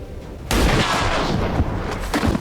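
Soldiers open fire in XCOM 2: War of the Chosen, a sudden loud volley of close gunshots after a brief quiet, sustained as a dense crackling burst with sharp repeated reports.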